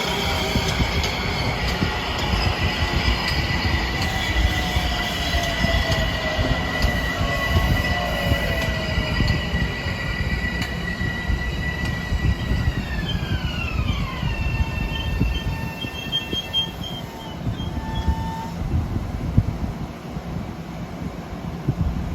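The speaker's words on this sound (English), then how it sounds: "he's going to be passed by the Lakeshore Limited, train 49 from New York to Chicago" The Amtrak Lake Shore Limited, train 49 from New York to Chicago, rumbles past along the Hudson line at Harmon, a loud sustained roar of wheels and rail noise with high tonal squeals and a falling pitch as it passes.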